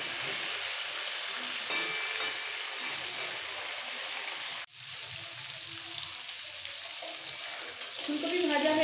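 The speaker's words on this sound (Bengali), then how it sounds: "একটু ভেজে নিতে হবে।" Cauliflower frying in a pan for a Bengali rohu fish curry with winter vegetables, a steady close sizzle with stirring scrapes throughout, briefly cut near the middle and then continuing alone.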